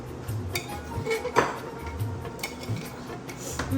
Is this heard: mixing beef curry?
yes